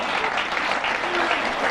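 Audience applause at a 1999 men's semi-final snooker match, Quentin Hann against Yannick Beaufils. It comes across as a loud, dense, continuous clapping from the arena crowd.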